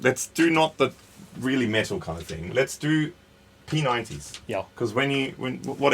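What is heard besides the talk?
No everyday noise stands out behind the speech.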